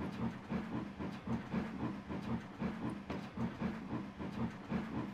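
A CO17 steam locomotive in the Trainz simulator labours along with a steady, rapid chuffing rhythm over continuous hissing and rumbling track noise.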